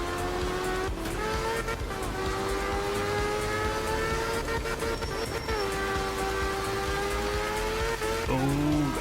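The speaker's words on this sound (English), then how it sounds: "Oh gosh, that was quite a drift." A car drifts near a wall, its engine roaring steadily and loudly up close with a thin tire squeal over it, then the pitch drops sharply near the end.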